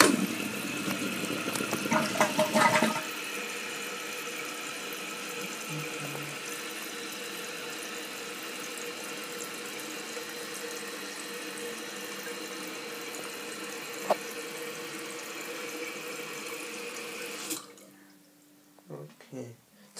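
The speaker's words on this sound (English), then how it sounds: "Just half flush." A dual flush toilet gives a short half flush with a loud burst of rushing water. A long, steady hiss follows as the tank refills, and it cuts off near the end with a few small clunks.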